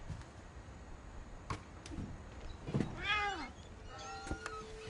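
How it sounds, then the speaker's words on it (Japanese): A cat gives a single short meow in What Remains of Edith Finch, clear but modest, set among faint ambient game sounds and a few soft knocks. "もうなんか猫の鳴き声しなかった。"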